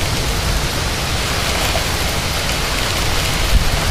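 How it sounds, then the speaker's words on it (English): Heavy rain pours down steadily during a severe supercell thunderstorm with strong wind gusts, a loud, dense, continuous hiss close by with no talking. "This rain's coming down a little bit too hard right now."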